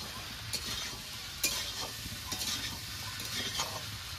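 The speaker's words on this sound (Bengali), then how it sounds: "এবার একটু নেড়ে চেড়ে মিশিয়ে নেব।" A spatula stirs fried pointed gourd into a sizzling mixed vegetable curry in a pan, with repeated scraping strokes over a steady frying hiss.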